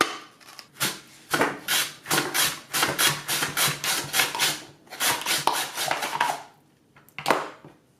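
Potato pushed repeatedly across a Swissmar Borner V-1001 V-Slicer mandoline with the thick julienne insert, giving a steady run of close, scraping cutting strokes with a short pause before a final pass.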